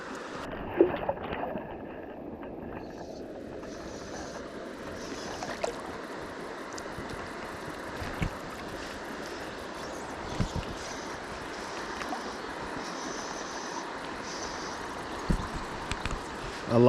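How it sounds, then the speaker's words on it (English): Bubbly water runs steadily along a Tasmanian river in a fly-fishing spot, a continuous close burble and rush with faint wind, no talking. "I love that sort of bubbly water"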